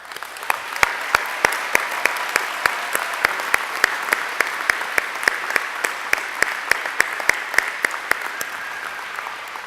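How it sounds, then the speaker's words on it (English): A commencement audience applauds, a steady wash of many clapping hands lasting nearly ten seconds, loud and close, with sharper individual claps standing out in a regular rhythm throughout. "Let's have another round of applause."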